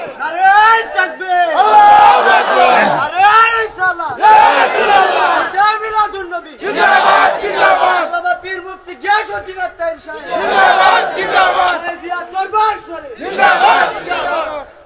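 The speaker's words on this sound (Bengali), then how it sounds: "হাত তুলে স্লোগান তোলেন" A large crowd at a religious sermon chants slogans in loud, rhythmic bursts of massed voices, rising and falling in several waves with brief pauses between.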